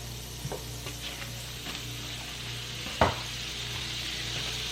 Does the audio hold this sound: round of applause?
no